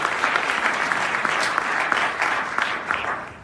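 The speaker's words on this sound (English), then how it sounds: "So let's just give one more round of applause and let's congratulate all of our students for their hard work." A crowd claps steadily through a school graduation ceremony, a continuous even round of applause at moderate loudness with no talking over it.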